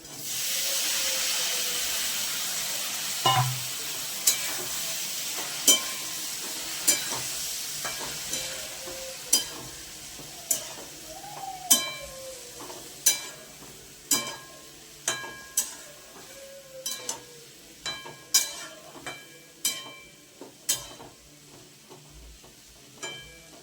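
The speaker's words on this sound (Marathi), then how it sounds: "हिरवी मिरचीचं त्याच्यानंतर धुतलेली गवार टाकून द्यायची." Washed cluster beans (gavar) hiss in a pan with green chili, a continuous frying sizzle punctuated by regular sharp scraping clicks of a spatula stirring, growing denser toward the end.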